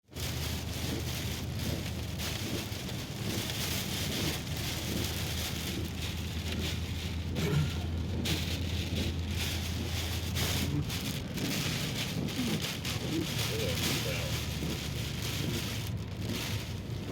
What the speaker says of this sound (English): Do y'all hear the wind? It's picking up.